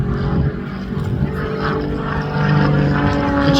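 A Tutor propeller aircraft flies a stall turn during an air festival display, its engine a loud, steady drone with a wavering pitch, pulling straight up and coming around without a break in the sound.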